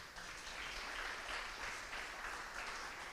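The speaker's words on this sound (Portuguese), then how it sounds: "Aplauda o Senhor." A church congregation applauds steadily as a dense, even wash of clapping across the whole stretch, moderately distant and without clear speech.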